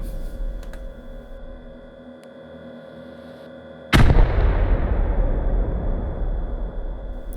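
Arma 3 Antistasi artillery: after a quiet low hum, one sudden heavy blast hits and rolls into a long, loud rumbling decay that fills the rest of the moment.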